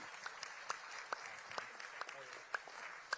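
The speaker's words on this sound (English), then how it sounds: "Give him a round of applause." Audience applause at the White House Correspondents' Dinner, a steady wash of clapping from a large crowd with scattered sharper claps and whoops rising above it.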